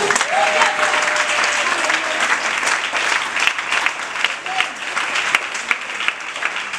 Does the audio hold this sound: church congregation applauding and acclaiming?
yes